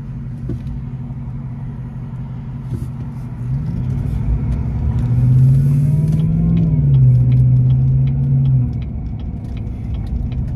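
A car passes on a busy road, its engine rumble swelling to a loud, close peak midway and then easing off, over a constant low traffic drone.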